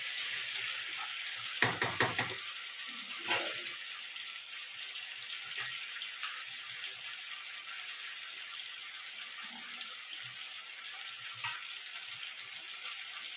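Chicken pieces fry and sizzle in a pan while being cooked down for chicken curry, a steady loud hiss running throughout with a few brief clatters and stirring knocks near the start.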